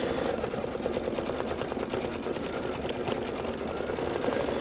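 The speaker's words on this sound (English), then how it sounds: "then you're going to stitch the tulip stamens" A Kimberbell embroidery machine stitches tulip stamens on a spring pennant, a steady close mechanical whir with rapid needle chatter running alone without pause.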